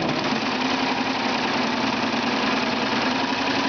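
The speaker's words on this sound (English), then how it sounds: "put that line right there to that red line and start serging." A serger sewing machine stitching and trimming a knit quilt seam runs at steady high speed, a continuous close motorized whir and rattle with no pauses or speech.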